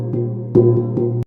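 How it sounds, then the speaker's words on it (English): A jing, the deep Korean gong of samul nori percussion, is struck three times, each hit blooming into a sustained, humming low tone that rings on between strikes before cutting off. "사물놀이 is Korean percussion that includes jing,"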